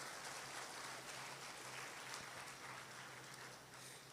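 A college audience at a Tamil debate event claps together in sustained, moderately distant applause that holds steady for several seconds without any speech.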